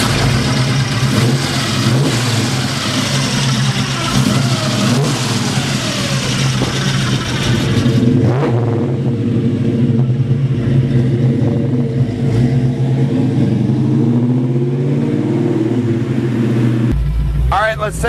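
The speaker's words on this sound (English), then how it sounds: "It's a Camaro, guys, and it's got a big block in it." 1968 Chevrolet Camaro with a big block engine and 4-speed, loud rumbling idle rising into sustained revving, then the revs drop back and settle before the sound cuts off near the end; a voice speaks over it.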